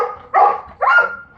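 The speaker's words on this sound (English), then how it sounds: "Lot of barking going on there." A dog, apparently a laid-back English Golden Retriever at a board-and-train kennel, gives two sharp barks close by, evenly spaced about half a second apart, with a quiet pause between.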